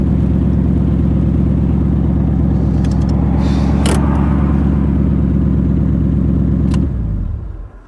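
A Shelby Cobra replica built by Superformance drones loudly while driving, its deep engine note steady and close for about seven seconds before cutting away abruptly.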